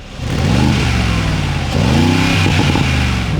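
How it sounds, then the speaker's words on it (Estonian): Mercedes-AMG G63 (2020) with a modified straight-pipe exhaust revving up loudly and close by, several rising and falling engine sweeps with a deep, rough exhaust note. "Selle G63 mudeli puhul on just väga palju rõhku pandud summuti häälele."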